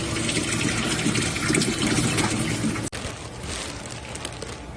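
Water gushes fast and steadily into a freshwater fish tank, a loud close pouring rush that briefly cuts out near the three-second mark before resuming a bit softer.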